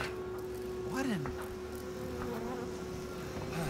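Insects buzz steadily through a dark scene in the horror game Outlast 2, a constant droning hum with occasional louder swoops passing close, under game sound and ambience.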